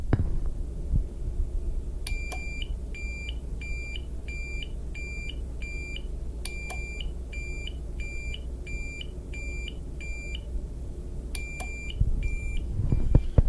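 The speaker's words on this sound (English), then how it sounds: "I'm going to try one more time with it beeping" Bursts of rapid high-pitched electronic beeps from a sensor device, repeating in regular groups over a low steady hum, with a few soft knocks.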